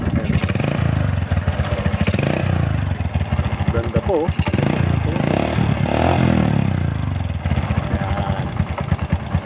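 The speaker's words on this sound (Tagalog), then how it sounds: "Ito po yung tunog ng kanyang pipe." A Honda Wave 125 underbone motorcycle idles steadily through its exhaust pipe, close and continuous, while a person talks briefly over it.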